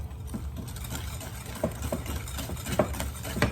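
A hand mixer whisks eggs and sugar into a creamy base for a traditional Albanian tatli dessert, giving a quiet, steady motor drone with faint, irregular clicks and knocks over it.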